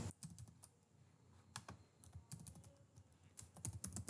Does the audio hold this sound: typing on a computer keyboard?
yes